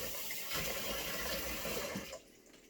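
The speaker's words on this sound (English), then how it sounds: "And I'm gonna wash my hands." A sink tap runs for hand washing, a loud, steady splashing gush close by that cuts off sharply near the end, with no talk.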